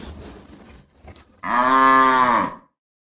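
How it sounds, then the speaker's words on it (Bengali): A cow gives one long, loud, close moo after some quiet shuffling and brief sounds, then falls silent. "আমাদের গরুটা সুন্দর, তাই না?"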